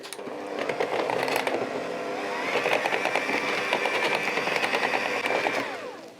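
An electric mixer whirs through runny chocolate fudge cake batter, a steady buzzing motor close by with rattling beater clicks, the pitch shifting slightly as it works.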